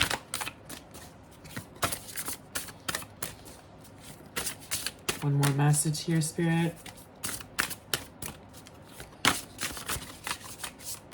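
Cards are shuffled repeatedly in quick riffles and snaps, with a person speaking briefly in the middle.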